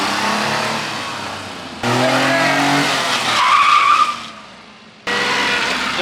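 A JDM mini truck brakes hard and its tires skid, producing loud rough screeches. The first skid fades, a second harsher one rises with a thin squeal, then falls briefly silent before another skid bursts in.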